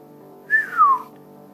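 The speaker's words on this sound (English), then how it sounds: "Erica gave a slow whistle." A slow whistle made by a voice, a single short two-part whistle that holds a note and then slides downward, clear and close over a faint steady background hum.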